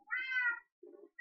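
A cat meows in Minecraft, one long drawn-out call followed by a shorter, lower mew, with the start of another cut off at the end; the sounds are clear and close with brief gaps between them.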